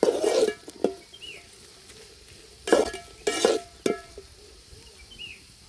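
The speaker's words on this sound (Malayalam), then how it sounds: "അപ്പോൾ നന്നായിട്ടൊന്ന് ഇളക്കി കൊടുക്കുക." Onions being stirred and sautéed in a pan for beef curry, with several short scraping strokes of a spoon against the pan in separate bursts over a faint, steady sizzle, close by and with no talking.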